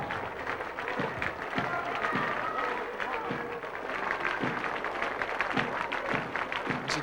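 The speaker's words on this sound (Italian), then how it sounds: "Bravi grida la folla" A dense, steady wash of crowd applause and cheering fills the air at the 1996 Alpini national gathering parade in Udine, a large outdoor crowd clapping continuously with voices mixed in.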